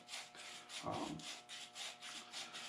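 Fine 220 grit sandpaper rubs in a rhythmic back-and-forth, making soft repeated scratchy strokes roughly every quarter second. The sound is faint and there is no talk.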